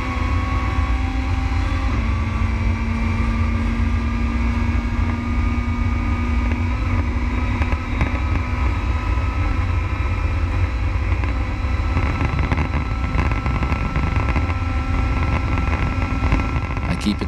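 WTCC touring race car engine held at high RPM on a fast uphill stretch of the Nürburgring Nordschleife, a loud, steady in-car drone with a sustained pitch, a short shift and continuous wind and road roar.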